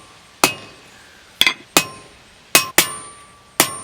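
A hammer striking metal on an anvil to mushroom it out, six sharp ringing clangs at irregular spacing, close and clear, each with a brief metallic decay over a quiet background.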